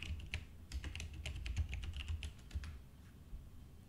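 Rapid, uneven keystrokes clatter on a computer keyboard, close and fairly quiet, with a short pause near the end.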